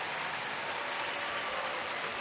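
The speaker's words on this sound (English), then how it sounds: "a nice round of applause as he heads back to the Ranger dugout" A baseball crowd at the Rangers' home park applauds steadily as Texas pitcher Derek Holland walks off after his last regular-season start against the Angels in 2013, a dense and even wash of clapping with no break.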